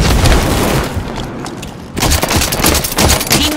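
Grenade explosions in a Halo 5: Guardians Warzone match boom in quick succession amid dense gunfire. A loud blast opens the moment, then a short lull, then renewed thuds and shots.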